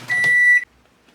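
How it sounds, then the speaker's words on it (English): A microwave oven softening butter gives one long, loud, steady electronic beep lasting about half a second, then falls quiet. "I have some butter in the microwave"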